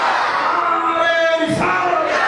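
A crowd at a Bangla religious waz gathering shouts the takbir response in unison, a loud, sustained chorus of voices rising and falling over about two seconds.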